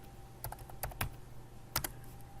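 Computer keyboard being typed on to write a chat message, a few quiet, scattered key clicks with short bursts and gaps, close but faint.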